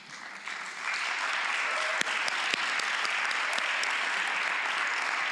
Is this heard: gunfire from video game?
no